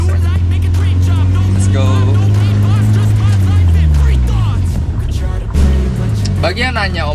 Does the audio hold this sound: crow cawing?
no